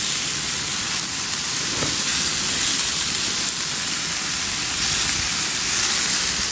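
Lamb steaks sizzling on a Nexgrill barbecue grill, a steady, loud, hissing crackle of fat that continues unbroken throughout without talk.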